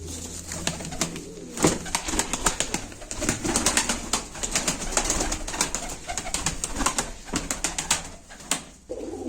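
Cooing and wing sounds from a Turkish game pigeon held at a live bird auction, soft repeated coos with broadband clatter and rustling throughout, fairly close.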